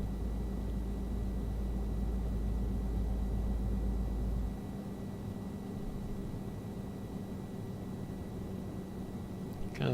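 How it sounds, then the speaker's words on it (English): Truck engine coasting in Euro Truck Simulator 2, a steady low rumble that stays continuous throughout, heavier in the first half and then slightly lighter, with no talking over it. "I like the way the truck sounds though when it's coasting"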